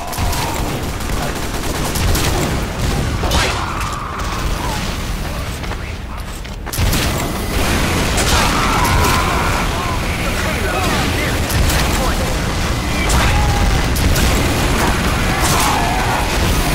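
Rapid, dense bursts of rocket jumper explosions and gunfire from a team shooter video game, loud and near, running almost continuously with a brief lull in the middle and faint voices mixed in.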